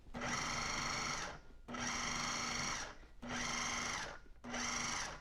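Food processor pulsing cauliflower into small rice-like bits: four loud whirring bursts of about a second each, separated by short pauses, steady and close with no talk.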